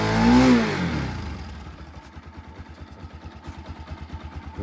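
A motorcycle engine on a rough village road rises in a brief rev, then settles into a steady, rhythmic thumping idle close by.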